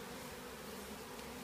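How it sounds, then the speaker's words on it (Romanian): Honeybees buzz steadily at a beehive in a dense, continuous drone, close and fairly faint, with no talking. "E albină aia."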